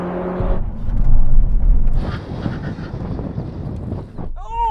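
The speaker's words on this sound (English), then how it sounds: "Brake test from 70 miles an hour. When we hit the cone, full emergency stop." A 2008 Audi R8 V8 and a new Audi TTS make full emergency stops from 70 mph. A loud rolling roar peaks, then eases into lower rumbling, and a short tonal sweep follows at the end.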